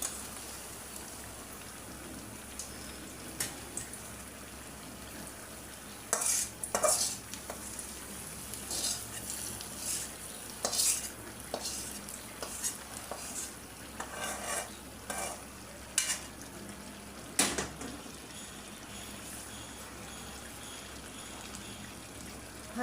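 Onion, garlic and dried chili frying in oil for a tempering on a side burner, a soft steady sizzle broken by sharper crackles and spatters and occasional stirring scrapes, with no talking.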